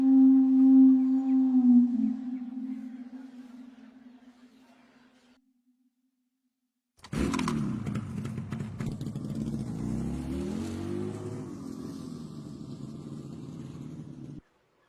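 A motorcycle engine hums steadily and fades away to silence. After a pause, a rough, clattering engine runs at a fairly loud, even level.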